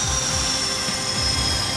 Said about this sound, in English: The engine starts without a hitch.